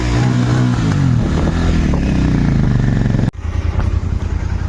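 Royal Enfield Continental GT650 twin-cylinder motorcycle engine running loud and close, a steady throbbing idle with blips of revving, cutting out briefly near the end before resuming with a rougher pulsing note.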